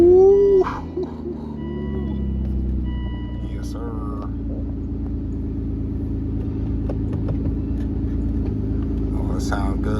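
An Aston Martin DB9 with a six-speed manual gearbox starts, its engine catching with a loud burst and settling into a steady, low rumbling idle close by, while someone speaks briefly over it.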